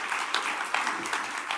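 A conference audience applauds at an international forum, a brief, dense wash of clapping at moderate volume that runs steadily throughout.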